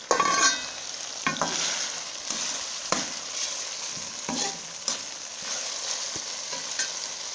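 Mutton liver masala stirring and sizzling in a hot pan, a steady frying hiss with several sharp scrapes and knocks of a spoon against the pan, close and without any talk.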